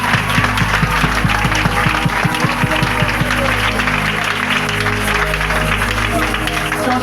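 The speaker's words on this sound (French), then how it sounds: "On acclame pour le Saint-Esprit" A church congregation applauding and cheering for the Holy Spirit, steady dense clapping and crowd noise filling the whole stretch without a break.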